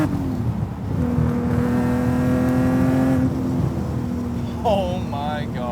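An 850+ hp BMW M Coupé engine revs hard and climbs steadily through the rpm range, loud and close, with a brief lift before pulling again; tyre or turbo chirps squeal near the end.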